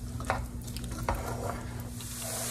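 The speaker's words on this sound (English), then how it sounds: "So now I'm gonna fry this for around 4 to 5 minutes until it's translucent." Chopped celery frying in a pan for cornbread dressing, a steady close sizzle with occasional scraping stirs, no talking.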